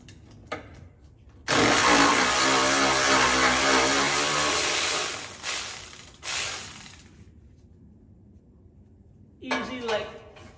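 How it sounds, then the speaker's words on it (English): Loud, steady mechanical whirring of a wrench or impact gun spinning out 10 mm sway bar bolts during a GM 8.6 rear end overhaul, running several seconds then tapering off, with a brief second burst near the end. "you can get your 10 millimeter with a wrench or an impact and take those out"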